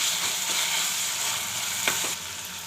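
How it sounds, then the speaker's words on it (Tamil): Ginger garlic paste sizzles and fries with softened tomatoes in a hot pan, a steady close crackle running throughout with a couple of brief stirring scrapes near the end and no talking. "லைட்டாக பச்சை வாடை போகிற வரைக்கும் வதக்கிக்கலாம்"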